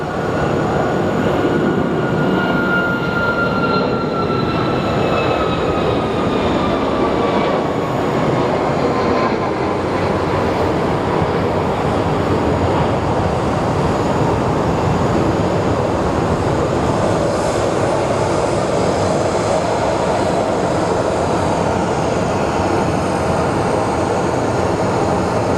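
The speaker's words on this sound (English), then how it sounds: "And here comes our flight to New York. Now this is a MAX." A Boeing 737 MAX airliner at Phoenix Sky Harbor on a rainy day makes a loud, steady broadband roar throughout, with a high whine that slowly falls in pitch as it passes. No one speaks.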